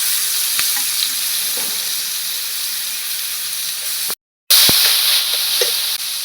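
Grated carrot fries with crushed garlic in a pan, giving a continuous close sizzle and hiss. Scattered clicks of stirring come through, and the sound drops out for a moment partway through.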